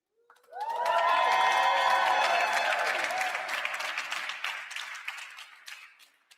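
An audience applauds at a blockchain launch event. The clapping swells in quickly under a brief sustained musical tone, stays loud and dense, then slowly thins and fades toward the end.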